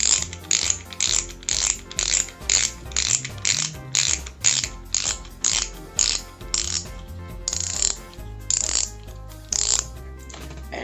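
Tightening the lid back onto a fishing reel that would not spin produces a rapid series of crisp mechanical ratchet clicks, evenly spaced and close up, repeating throughout with a few brief pauses.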